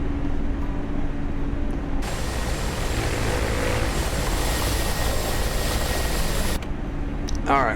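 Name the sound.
Mi-24P Hind helicopter engine in a video game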